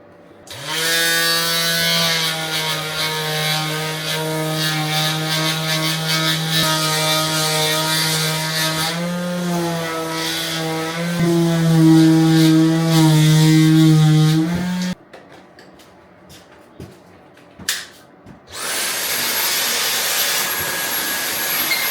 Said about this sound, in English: I'm going to finish sanding down